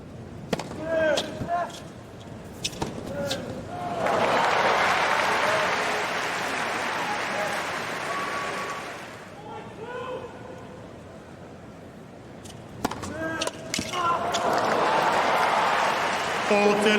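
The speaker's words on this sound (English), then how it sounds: "Sound like the crowd is energized" Energized crowd at a 2024 US Open first-round tennis match between Carlos Alcaraz and Li Tu breaks into loud, sustained applause and cheering in two long waves, separated by ball strikes, a quieter lull and a commentator talking.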